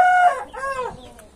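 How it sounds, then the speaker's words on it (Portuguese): A large, strong bearded rooster crows once up close, a loud, clear cock-a-doodle-doo with rising and falling harmonic tones lasting about a second and then trailing off. "É um galo grande, galera"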